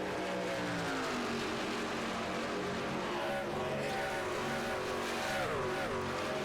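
Two racing trucks side by side on an oval track in a Charlotte 150 truck series race, engine drone loud and continuous with shifting pitch as they jostle, no commentary audible.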